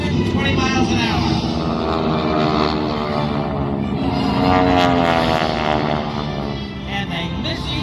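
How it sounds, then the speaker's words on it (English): World War II propeller airplanes of about 600 horsepower flying head-on toward each other at a New York airshow, a loud, sustained droning roar of piston engines that rises and shifts in pitch as they close. "4 600 horsepower World War II airplane from the left, 4 from the right, approaching head on, nose to nose, closing at over 320 miles an hour"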